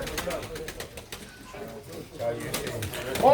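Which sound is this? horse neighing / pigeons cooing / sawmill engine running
pigeons cooing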